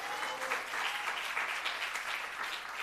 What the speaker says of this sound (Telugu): నమ్మితే గట్టిగా చప్పట్లు కొట్టాడు.